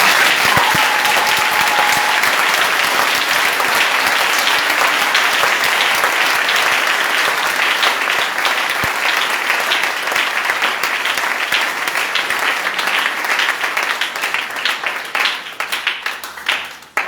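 A church congregation claps steadily and loudly for the Lord, a dense, sustained wash of applause that holds for about seventeen seconds before thinning out at the end.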